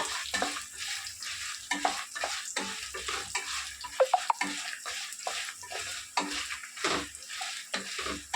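Dried red chillies fry lightly in oil for a tindora onion curry, a soft sizzle under repeated rhythmic scrapes and taps of a spatula stirring around the pan, with a brief louder clatter midway.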